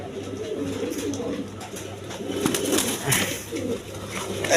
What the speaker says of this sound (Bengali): খয়রি গলা কবুতর দেখেন একদম কোয়ালিটি সম্পন্ন কবুতর